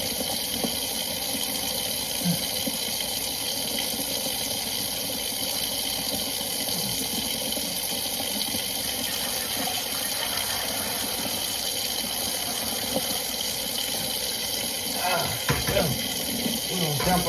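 Two gallons of liquid are dumped into a container during home brewing, making a steady, continuous gushing pour that stays even throughout, close and moderately loud.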